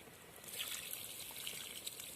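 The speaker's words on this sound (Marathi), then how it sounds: "तर आता यामधलं पाणी काढून टाकायचं आहे" Water trickles and dribbles steadily as it is drained off rice that has just been washed, a faint, close, continuous liquid sound lasting a couple of seconds.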